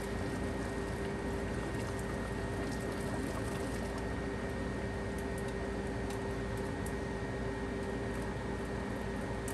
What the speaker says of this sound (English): now we're going to drain off our water,